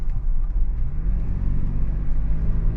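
A 2020 Toyota 4Runner with a quad-piston fixed-caliper brake fault picks up speed on the road, its engine and road noise making a loud, steady low rumble from inside the cabin.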